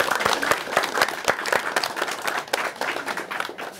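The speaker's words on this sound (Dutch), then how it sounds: "Mag ik een groot applaus voor Gina" Applause for a schoolchild rises from an audience of primary school pupils, with loud, distinct individual claps standing out early and the clapping thinning and fading over about four seconds.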